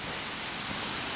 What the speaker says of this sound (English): I can hear a water course down on the far side of this hill here